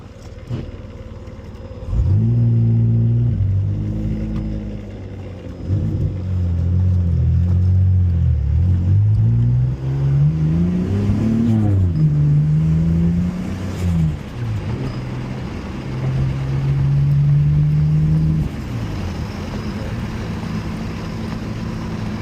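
A Mitsubishi 3000GT with a SOHC engine and newly installed turbo idles close by, then revs up and down in several rising and falling sweeps over a steady low rumble, loud and alone with no talking.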